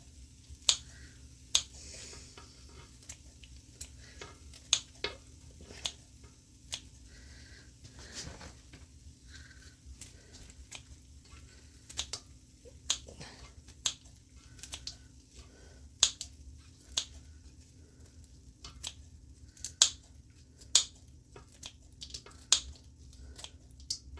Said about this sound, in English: 6 slices of bacon. Cut it up real fine.